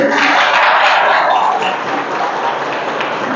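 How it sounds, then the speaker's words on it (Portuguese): A church congregation applauds loudly, a dense wash of steady clapping that fills the whole moment and eases only slightly toward the end, with no voices over it. "Se é para aplaudir, então aplaudir mesmo, amém?"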